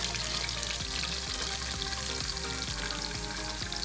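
Vegetables and potatoes sauté in a pan for sambar, giving a steady, close sizzle with faint scraping stirs and soft periodic knocks throughout, no voices.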